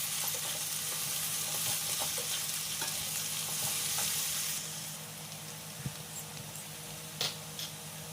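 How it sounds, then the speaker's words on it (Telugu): Boiled potato pieces stir-fried in hot oil with cumin and green chilli, with a bright steady sizzle and occasional spatula scrapes and taps that grow slightly quieter partway through. "ఇప్పుడు ఉడికించుకొని ఉంచుకున్న బంగాళదుంప ముక్కలను అయితే వేసుకున్నాను. వేసుకొని బాగా మిక్స్ చేసుకోవాలి."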